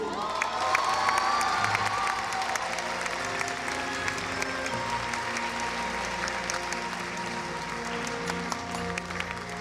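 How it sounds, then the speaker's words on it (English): An audience at a Chinese performing arts troupe's show on a Hawaii tour applauds and cheers steadily, with mixed crowd voices and a few higher shouts, heard at a moderate distance. "another round of applause for Chinese Performing Artists of America."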